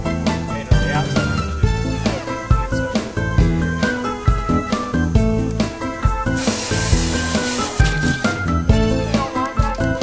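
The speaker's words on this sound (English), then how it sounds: "we're going to spray inside of here as much as we can" Coating sprays inside the body of a Ford F100 truck, a hissing spray burst partly buried under loud, busy music that dominates throughout.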